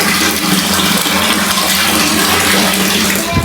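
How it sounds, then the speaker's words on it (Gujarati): Water gushes from a household tap in a steady, loud, unbroken rush that carries on alone with no voices. "અત્યારે પાણી આવ્યું"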